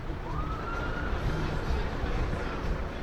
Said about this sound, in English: Ambulance, I think, is still going around